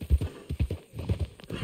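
Horse hooves clip-clopping in Red Dead Redemption II, a brisk even run of close, thudding steps with a short pause midway, heard alone.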